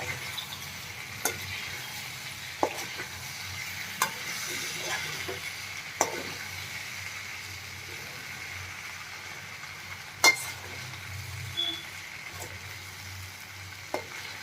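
Homemade pasta is stirred gently in a hot sizzling pan. A steady low fry hiss runs throughout, broken by soft periodic scrapes and taps of the spoon against the pan, close by, with no voices.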